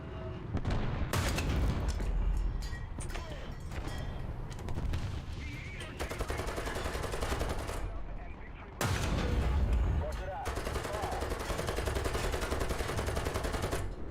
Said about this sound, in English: artillery is going into that zone now